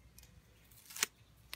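Scissors trim the end off a paper strip in a small, quick snip, with a sharp crisp cut near the middle and a lighter snip at the end, heard close and alone in a quiet room.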